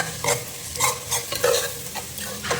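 Chilli powder masala fries in oil for a fish curry and is stirred in a pan, making repeated scraping strokes about every half second over a low sizzle, close up, with no voices.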